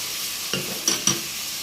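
Meat with paprika, meat spices, black pepper and bay leaves is stirred in a pot, giving a soft steady sizzle with three quick scraping strokes of a spoon, close and without talk.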